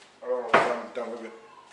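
A drawer sliding open or shut, one sharp woody knock in the middle, with a person talking before and after.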